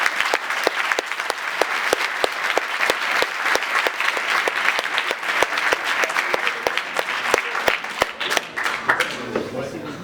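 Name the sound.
audience applause after presentation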